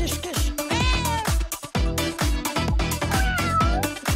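A cat meows repeatedly while being picked up, a series of loud, close cries mixed with other pitched, rhythmic sounds that fill the whole stretch.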